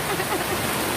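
Heavy rain pours down in a steady, dense hiss, loud and close, with no break.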